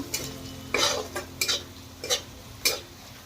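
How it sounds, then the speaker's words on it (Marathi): Onion, turmeric, homemade masala and sambar masala sauté in oil in a pan. A low sizzle runs underneath, broken by a handful of sharp, close spoon scrapes and clinks against the metal at irregular intervals. "हळद हा सुद्धा तेलात चांगला परतून घ्यायचा"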